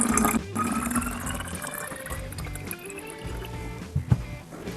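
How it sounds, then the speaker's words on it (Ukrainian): Ordinary tap water poured into a container to make up about half a litre for a homemade dish-washing liquid, a continuous close-up gurgling fill with shifting tone and no talking. "Наливаємо води."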